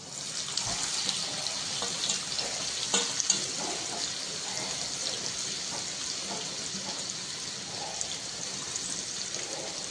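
Water poured into a pan of garlic fried red in oil while cooking chole, a soft steady hiss and gurgle lasting several seconds, close but quiet with no voices.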